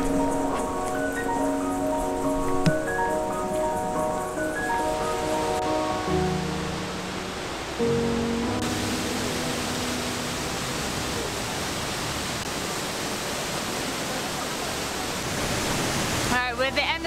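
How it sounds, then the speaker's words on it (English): Iguazu Falls roaring at the end of the Lower Falls Trail, a dense, steady wash of white noise that fills the scene loudly, with music heard in the first several seconds. "The big finale, big white waterfall, look at it!"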